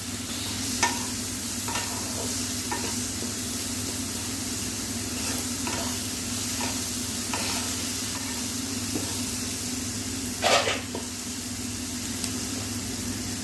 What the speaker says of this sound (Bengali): বেগুনটা একটু ভাজা হোক, আলু আর বেগুনটা